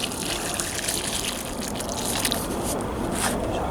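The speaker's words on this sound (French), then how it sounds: "Alors, là, on va arroser." Water poured or gushing onto soil around a newly planted Lili Marlène bush rose in a garden, a steady close splashing and trickling flow that continues evenly without talk.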